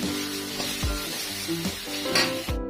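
Thai curry paste sizzles loudly in a hot pan while being stir-fried, a steady bright hiss broken by several sharp scrapes and knocks of the spatula against the pan, close up and with no voices.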